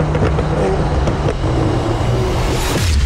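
The engine of a 1500 bhp Porsche 992 Turbo S produces a loud, continuous, deep rumble and drone. The sound is close and steady, with a rising whoosh near the end.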